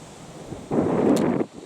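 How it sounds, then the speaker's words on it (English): A strong gust of wind roars across the microphone outdoors on an elk hunt for under a second, a broad low rumble that swells and then drops away. "Boy, it's windy."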